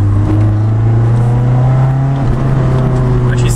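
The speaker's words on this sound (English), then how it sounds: "Well, driving here in the old 240, maybe you can hear it." Nissan S13 240SX with an exhaust problem driving along, its engine a loud, steady low drone with a slight dip in pitch partway through, carrying on alone throughout.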